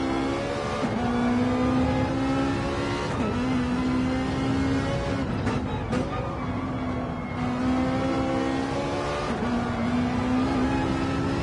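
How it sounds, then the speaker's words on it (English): Ferrari GTE race car engine roars continuously on track, loud and close, its pitch sagging and climbing again several times as it shifts and accelerates. "the sound of that Ferrari is so loud I can hear it in Romania"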